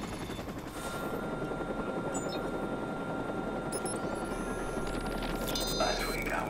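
A helicopter flies in the video game WAT, heard as a continuous loud rotor drone with some brief higher electronic blips and tones layered over it.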